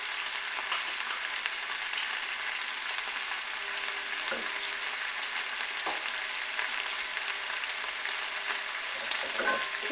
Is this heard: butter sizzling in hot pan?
yes